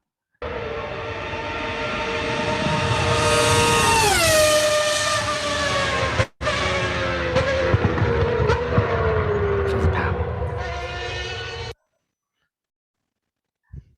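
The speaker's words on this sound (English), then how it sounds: "It was a Ferrari V12." A high-revving Ferrari V12 Formula 1 engine screams past, its pitch rising and dropping as gears shift, with a brief cut midway before fading out.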